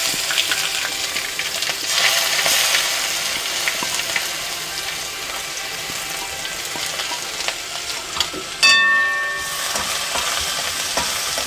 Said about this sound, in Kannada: ಸೊ ಅದನ್ನು ಇವಾಗ ಎಣ್ಣೆಯಲ್ಲಿ ಫ್ರೈ ಮಾಡ್ತೀನಿ.